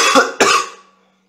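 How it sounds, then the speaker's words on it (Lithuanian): A person coughs after smoking a cigarillo: two harsh, close coughs in quick succession, the second stronger, trailing off into silence. "Turiu bent kartą nusikosėti."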